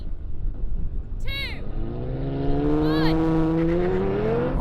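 BMW M4, Mercedes-AMG C63 S and Audi RS5 launching side by side in a drag race, engines rising steadily in pitch through the gears with sharp upshift sweeps. A voice talks over the start.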